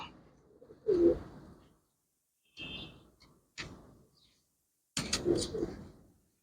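Black pigeons coo in several short, close bursts separated by stretches of silence, with a longer, fuller run of cooing near the end.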